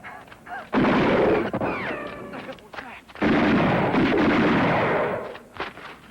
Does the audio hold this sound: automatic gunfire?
yes